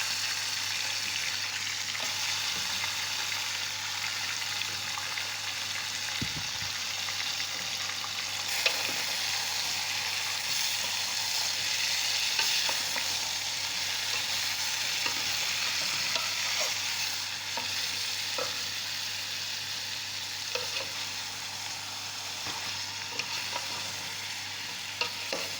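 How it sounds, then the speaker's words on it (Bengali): Four pieces of chicken sizzle steadily in hot oil while a utensil scrapes and stirs them around the pan, a continuous close frying hiss with occasional clinks. "এই মোরগ রান্না 4 পিস।"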